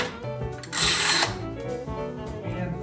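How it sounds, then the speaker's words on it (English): Screw of a bar clamp being tightened in a woodworking shop, a short mechanical ratcheting burst under a second long, then softer clicking and handling noises. "And the final tightening with the screw."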